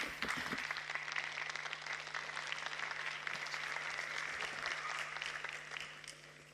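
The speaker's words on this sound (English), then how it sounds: "Give them another round of applause." Audience applause at a youth climate summit in Bendigo, a steady, full round of clapping from a crowd that holds throughout and tapers off at the very end.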